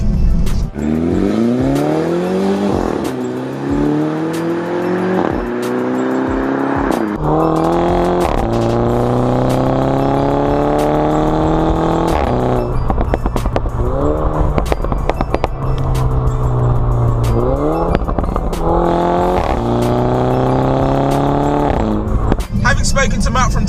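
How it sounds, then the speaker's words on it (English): A Mini Cooper S Convertible with a Remus catback exhaust revs and accelerates hard through repeated gear changes, its rasping note rising and falling loudly while someone talks over it. "That exhaust, guys, that exhaust is worth every penny."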